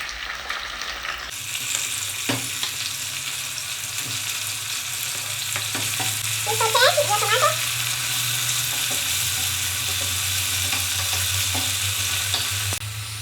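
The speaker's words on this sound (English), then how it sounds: "as our onion cooks, you can all see they are starting to be golden brown. So I'm gonna put in the tomatoes." Tomatoes dropped onto golden-brown onions frying in a pan, a close, dense sizzle throughout with a low hum beneath and a few scraping stirs.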